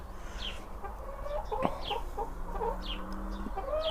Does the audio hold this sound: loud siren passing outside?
no